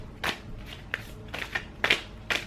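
Tarot cards are shuffled close up in a handful of quick, crisp riffling bursts separated by short pauses.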